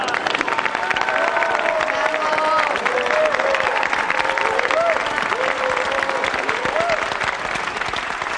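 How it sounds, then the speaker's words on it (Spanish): Audience applause for music groups at a competition, loud continuous clapping from a large crowd with some cheering and voices mixed in. "pido un aplauso para todos los grupos que participaron"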